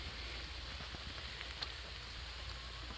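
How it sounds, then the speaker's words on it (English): Light rain falling outdoors, a soft, even patter of drops on surfaces, steady and fairly quiet, with a low background rumble and no voices. "Yeah, it's raining."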